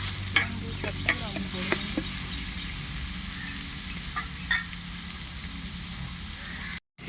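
Onions sautéing with fennel seeds and cardamom in a pan for Tamil egg gravy, a soft steady sizzle with a few sharp scraping stirs of a spoon near the start, no talk.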